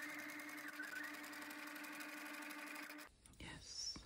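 A sewing machine stitches an elastic waistband onto a pair of shorts, running steadily and close for about three seconds before it stops. Soft handling noises and a faint voice follow.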